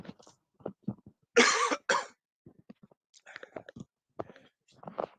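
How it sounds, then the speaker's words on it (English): A quiet scene of soft clicks and breathy sounds, then a sudden harsh cough, followed by a shorter second one, before faint mouth noises resume. "I didn't want to cough in everyone's ear."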